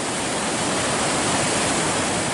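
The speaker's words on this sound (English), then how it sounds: "I wonder how many gallons of water are going over the dam." Floodwater rushes over a dam on a raging Slippery Rock Creek, a loud, steady, dense roar of falling water close by, with no breaks and no voices.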